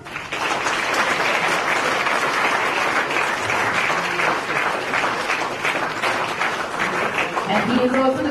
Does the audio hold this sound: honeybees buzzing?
no